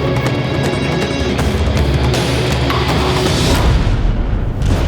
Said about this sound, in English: the quickest way to sink a ship is to detonate her ammunition magazine